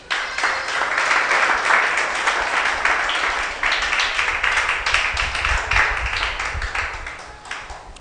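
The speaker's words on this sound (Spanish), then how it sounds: "Dale un aplauso al Señor" A church congregation applauding together, dense sustained clapping with a crowd roar, loud and fairly close, thinning out near the end.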